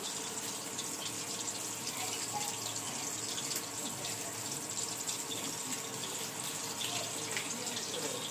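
Water poured into a pot of curry during cooking, a continuous, even gushing splash that holds steady throughout, close and moderately loud, with no talking over it.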